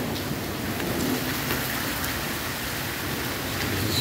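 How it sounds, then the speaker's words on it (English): Very heavy rain pours down during a night storm in Lebanon, a dense, continuous roaring hiss with a low rumbling undertone, steady and close throughout with no talking. "very big rain."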